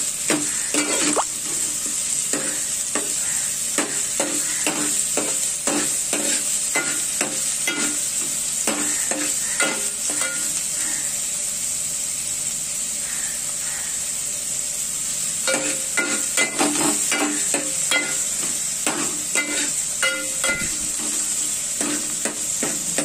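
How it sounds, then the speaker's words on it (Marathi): Sliced onion fries in hot oil for a Malvani colocasia-leaf dish, a continuous loud sizzle broken by repeated scraping strokes of a spatula stirring around the pan, close up and without speech. "त्यामध्ये एक कांदा कापून घेतलेला आहे, तो टाकणार आहे आणि तो लाल होईपर्यंत मी तेलामध्ये परतून घेणार आहे."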